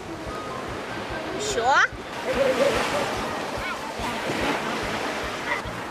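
Surf breaking on a sea shore at a beach, a steady broadband wash of waves with wind noise, with a person briefly talking over it.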